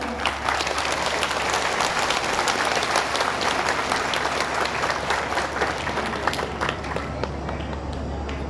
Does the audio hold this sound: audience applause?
yes